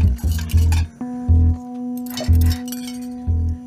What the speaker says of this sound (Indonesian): kesibukan ibu-ibu kalau lagi berurusan dengan piring dan gelas